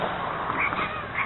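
Small dogs yap from somewhere nearby, their barks faint and blurred together in a short burst under steady background rumble.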